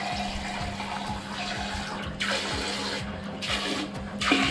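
Water spraying from a newly installed bidet sprayer, a steady close hiss of running water with faint rhythmic ticking underneath, continuing without talk.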